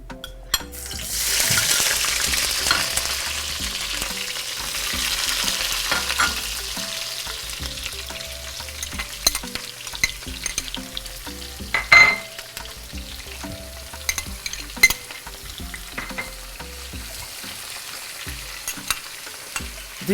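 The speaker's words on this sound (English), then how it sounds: "We're gonna saute our ingredients." Scallion, garlic, thyme and tomato paste sizzle steadily in a pan, with intermittent clicks and scrapes of stirring over a continuous frying hiss, no voices.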